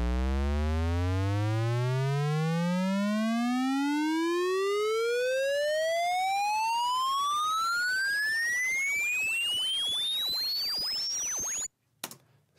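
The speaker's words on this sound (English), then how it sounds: "our riser." A synth riser built in Logic Pro X, a loud rich tone sweeping steadily upward in pitch for about twelve seconds, its harmonics climbing together, then cutting off abruptly with a brief click afterward.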